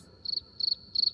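A cricket chirps in three short, evenly spaced trilling bursts, clear and isolated against a quiet background.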